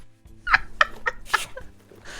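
A voice imitating the brushing of a horse in Red Dead Redemption 2 roleplay, making a series of five short, squeaky, gobbling bursts at an irregular pace, close and fairly loud.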